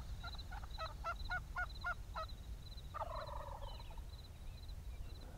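Wild turkey gobbling at a distance in a quiet, foggy landscape: a quick rattling burst of gobbles, then a second shorter call, faint over low background rumble.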